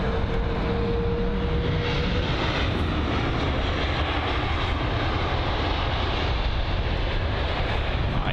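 An Airbus A320-200 jet arriving at London Heathrow, heard as a steady, loud, broad engine roar that holds unbroken throughout, with no voices.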